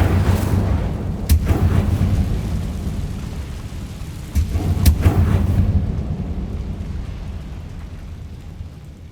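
A fire spell is cast in a Harry Potter video game: two sudden whooshing blasts, each trailing into a deep, rumbling roar of flame that fades out toward the end.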